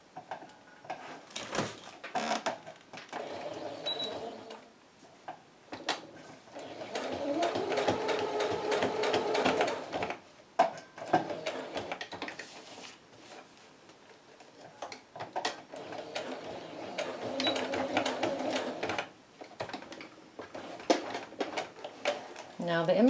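A sewing machine stitches ribbon onto fabric in bursts of rapid, steady whirring with pauses in between, close and moderately loud, while a person talks over parts of it.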